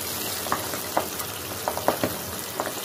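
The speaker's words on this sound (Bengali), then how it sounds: "পাবদা মাছ ভাজার সময় কিন্তু খুব বেশি ফুটে" Pabda fish fry in hot oil, a steady sizzle broken by scattered sharp pops and crackles every second or so, close and moderately loud with no voices.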